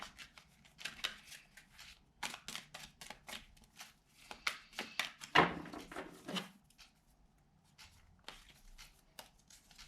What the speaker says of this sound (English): I will draw 12 cards for you, one for each month of the year.